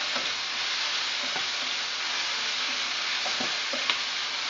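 Green choy sum leaves stir-frying in a pan with soy sauce, fish sauce and chili, a steady broad sizzle with scattered clicks and scrapes of stirring, close and continuous with no voices.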